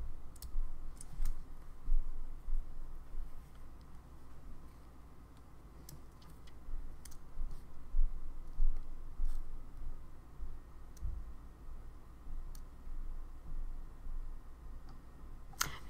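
A computer mouse clicks in sparse, irregular single taps, faint and close, over a quiet room hum.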